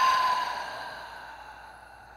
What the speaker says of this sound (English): Hold the breath. And exhale through your mouth.